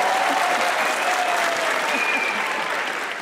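Loud, dense studio audience applause on a Pakistani comedy talk show, a steady roar of many hands clapping throughout, with brief tonal traces of voices or whoops faintly above the crowd.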